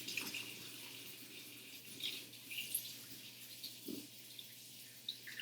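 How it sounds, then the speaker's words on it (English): A faint tap runs steadily into a sink as dough is washed off hands in a kitchen, with a soft splashing hiss and a few small knocks and clicks. "Give me 1 second to wash off all this dough."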